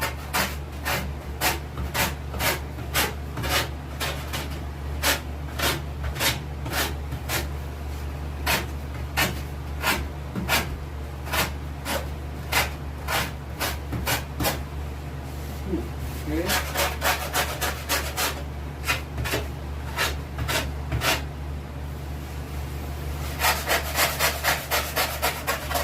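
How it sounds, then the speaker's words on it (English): Rasp strokes shaping the foam or wood body of a striper fish mount, a steady series of sharp, evenly spaced scraping strokes close by with brief pauses, quickening into denser bursts near the end. "we'll rasp the rest and give it a shot"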